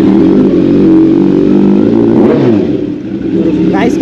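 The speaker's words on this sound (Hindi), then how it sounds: "गाइस का एग्जॉस्ट नोट सुनो कितना तगड़ा है" A 2023 Hayabusa superbike with a loud aftermarket exhaust revs hard up close, a deep, throaty roar that holds, dips briefly and climbs again.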